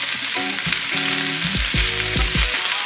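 Collard greens sautéing in a pan, a steady loud sizzle and hiss of cooking leaves with faint low tonal hums underneath, no talk.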